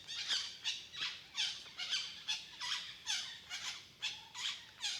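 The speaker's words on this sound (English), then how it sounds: "Parrot's noise and the noise of the dove." A parrot squawks repeatedly at Banteay Kdei temple near Angkor, giving about a dozen harsh, evenly spaced calls in a steady rhythm, moderately close and alone with no talking.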